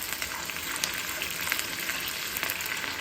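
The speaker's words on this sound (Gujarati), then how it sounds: "આપણે ડુંગળીને સાંતળી લઈશું" Chopped onions and dried curry leaves sauté in hot oil for a dhaba-style sev tameta shaak, giving a steady close-up sizzle and crackle with soft stirring scrapes and no talking.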